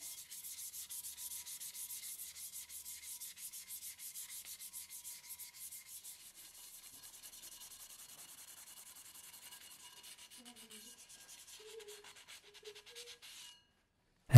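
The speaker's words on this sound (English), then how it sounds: "Start sanding all over, including at the base of the tumbler." Steady, rhythmic rubbing of sandpaper over a steel tumbler, soft and close, continuing evenly before trailing off into quiet.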